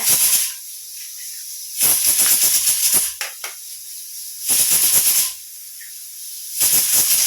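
Beaten eggs hit a hot pan of tempered beans and sizzle in loud hissing surges that rise and fall several times, close up, with a couple of soft clinks in between.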